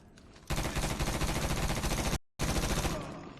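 Rapid automatic gunfire in the game Medal of Honor rattles loudly in sustained bursts, cutting out for a split second before resuming and then trailing off.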